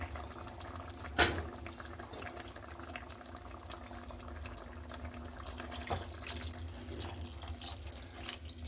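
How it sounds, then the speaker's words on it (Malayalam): Remaining milk poured into a pan of kalkanda pazha payasam on the stove, a soft, steady liquid pour that is faint and close, with a brief clatter near the start. "അതിനെ നമുക്ക് ഇതിലേക്ക് ബാക്കി പാൽ ഒഴിച്ച് കൊടുക്കാം"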